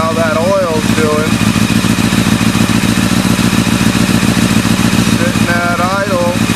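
A street motorcycle engine idling steadily and loud nearby during an oil check, a constant mechanical throb running throughout while someone talks over it.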